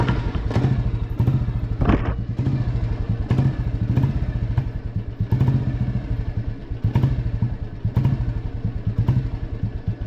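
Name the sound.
Royal Enfield Lightning 535 motorcycle engine starting and idling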